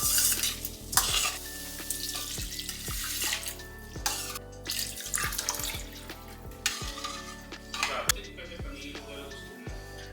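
Oranges rinsed under a running kitchen tap in an Indian home kitchen, steady water splashing with clattering handling and knocks of fruit against the sink, continuous over the full stretch with no talk.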